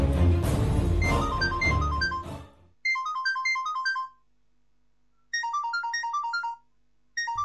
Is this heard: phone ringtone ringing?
yes